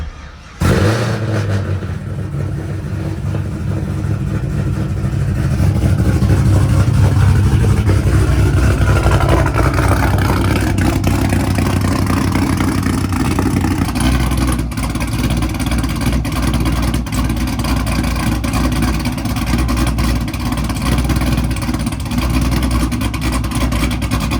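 Car engine, a V-engine, cranking and catching after a short burst, then settling into a loud, steady idle that drops slightly in pitch partway through and runs on alone.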